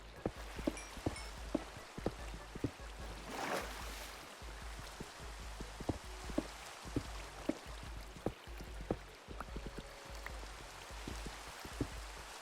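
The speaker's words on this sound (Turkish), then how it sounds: "Yağmur dursun." Rain falling in the Minecraft video game: a faint, steady watery hiss with regular soft ticks and drops spread through it, and no voices.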